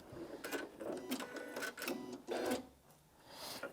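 Janome Atelier 9 sewing machine stitching a buttonhole, heard as quick bursts of mechanical stitching separated by short pauses. The sound is close and fairly quiet, and no one speaks.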